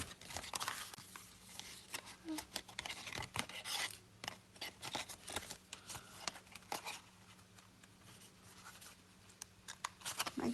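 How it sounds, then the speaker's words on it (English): Scissors snip through a folded paper card along its score line, making quiet, irregular crisp cuts and rustles close by, with a steady low hum underneath. "if you haven't cut all the way to the score line, you can just go in and"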